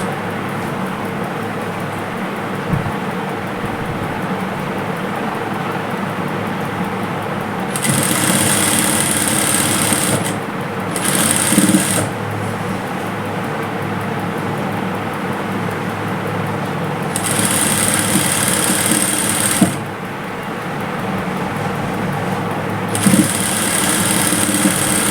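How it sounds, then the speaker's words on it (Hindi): Domestic sewing machine stitching a seam on fabric cut from an old saree, a steady close whirring hum that runs in several long bursts with brief pauses between them, no speech. "देखो इस तरह से एक सिलाई इसके ऊपर से आ जाएगी।"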